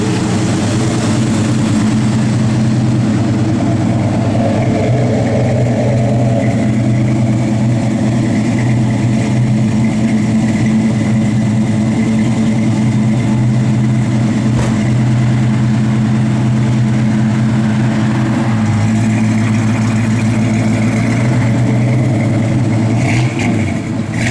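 A 1971 Plymouth Road Runner engine runs steadily and loud, a deep rumbling idle with slight rises and dips in revs across the whole stretch, and no talking over it.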